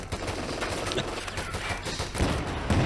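Browning automatic rifle fire in the video game Company of Heroes 2, steady overlapping bursts of battle gunfire in a busy, continuous mix without clear pauses.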